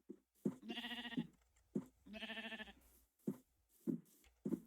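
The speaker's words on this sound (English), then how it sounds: "Oh, so many sheep. Come here, sheep." Sheep in the video game Minecraft bleat in short bursts, with two long wavering bleats and several brief clipped ones, close and clear with no talking.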